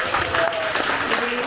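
An audience at a patriotic rally gathering in a church gives steady, sustained applause, a dense wash of many hands clapping, with a voice faintly audible over it.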